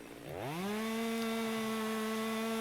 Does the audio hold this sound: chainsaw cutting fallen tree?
yes